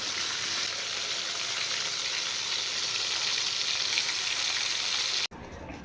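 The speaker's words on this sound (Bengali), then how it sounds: "এবার আমি আর মাছ ভেজে নিচ্ছি।" Aar fish frying in a pan gives a loud, continuous sizzle and hiss close by, which cuts off sharply near the end and gives way to a quieter sputter.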